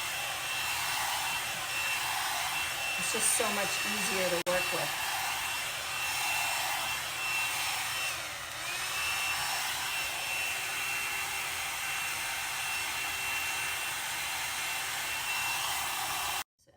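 A hair dryer blows continuously at close range while hair is being styled, a steady airy roar with brief handling noises and a few quiet spoken words near the start.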